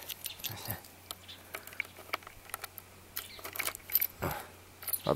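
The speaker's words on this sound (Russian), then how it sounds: "Ключик вот он." A small key for an e-bike's battery lock jangles on its ring in short, quiet bursts of metallic clinking, close by, with brief pauses between handlings.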